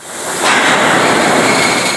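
A long 142-car freight train, more than 1.5 miles long, rolls past a grain co-op elevator, a loud, close, steady rumbling roar that swells after a moment and holds.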